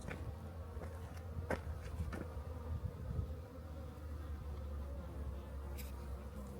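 Faint hornet buzzing drones continuously against a low background hum, with a few soft clicks scattered through it; no talking.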